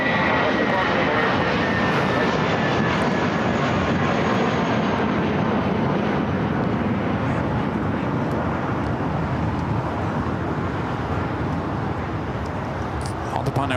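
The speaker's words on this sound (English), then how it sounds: "Volaris A320 now taking off 25 left." A Volaris Airbus A320 jet takes off from runway 25 Left at LAX, a loud, continuous broadband engine roar that stays strong throughout with a slowly shifting whine, heard from fairly close.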